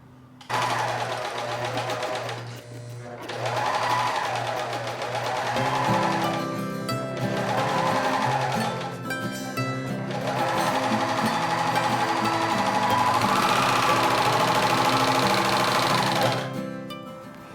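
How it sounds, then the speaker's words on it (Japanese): Overlock serger stitching the side seams of handmade shorts, using two strands of woolly nylon thread: a steady fast mechanical whir running in long bursts with brief slowdowns, loud and close. "いよいよここでロックミシンの登場だ。"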